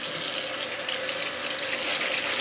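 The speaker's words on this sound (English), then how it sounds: "So we're gonna wash that first and put it to boil." Tap water runs steadily into a sink as saltfish is rinsed under it, a continuous close splashing hiss with no voices.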